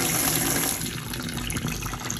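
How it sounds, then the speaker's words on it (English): Tap water runs steadily into a sink in a rented property during an inventory check, a continuous close hiss and splash with no speech. "And I'm just gonna check the water runs okay."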